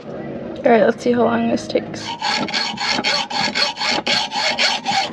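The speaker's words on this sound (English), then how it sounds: "So I'm going to cut this off" A stuck bolt being cut off aboard a sailboat, a rapid back-and-forth rasping in a steady rhythm of strokes, close and loud, after a short line of speech at the start.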